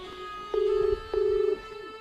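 Two short electronic beeps in a row, each about half a second long, sounding like phone keypad tones over a low steady hum.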